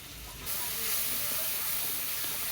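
Cumin, ginger and chili pastes, including dried chili paste, hit hot oil and set off a sudden loud, steady hiss and sizzle that continues evenly, with no voices over it.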